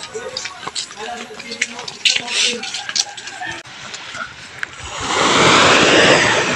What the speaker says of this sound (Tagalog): Ang kagandahan dagat dito.